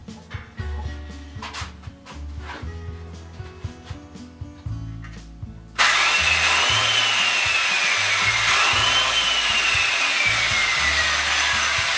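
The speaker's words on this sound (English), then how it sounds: "This is a 2 1/8 horsepower, 7 1/4 inch sidewinder." A 7 1/4 inch, 2 1/8 horsepower sidewinder circular saw with no blade fitted starts up partway through, a loud steady whine that holds after scattered knocks and handling noises.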